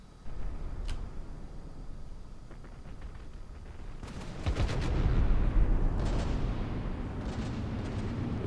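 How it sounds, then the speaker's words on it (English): Battleship guns fire in a naval video game battle, with scattered distant thumps followed by a heavy, booming volley midway and rumbling aftershocks that linger. "Lot of fire being exchanged."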